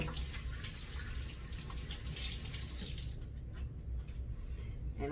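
Kitchen tap running steadily into a sink while parsley is rinsed under it, a continuous close splashing flow that thins out near the end.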